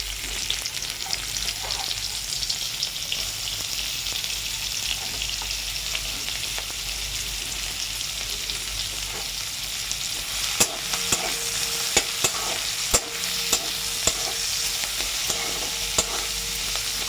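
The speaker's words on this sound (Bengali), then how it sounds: "ওই তেলটাতেই এবার এক এক করে আমি পেঁয়াজগুলো ভাজতে দিয়ে দেবো" Onions frying in hot oil left over from frying bitter gourd, a dense steady close sizzle with occasional utensil taps and stirring clicks toward the end.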